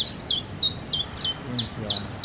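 Morning birds chirp in a quick, regular series of short high tweets, fairly close and clear over a low background murmur.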